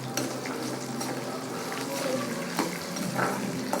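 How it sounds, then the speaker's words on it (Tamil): Garlic fries in a pan with already-softened ingredients, giving a steady close sizzle with occasional stirring scrapes and a faint watery hiss underneath. "பூண்டு போட்டு நல்லா வதக்கிக்கோங்க."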